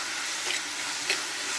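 Ginger and garlic fry in a pan while being stirred for an egg roast: a continuous, soft, hissing sizzle with two brief scrapes of the spoon, close up and with no voices.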